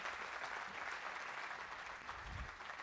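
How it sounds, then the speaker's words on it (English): Conference audience at a Google Cloud community day applauding the panel, a continuous even wash of many hands clapping, faint and distant throughout with a low thump near the end. "Can we have a huge round of applause for all the panelists?"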